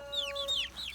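Young chickens on a homestead being let out in the morning give a quick run of high, close peeping calls over a brief moment, with a steady tone in the background.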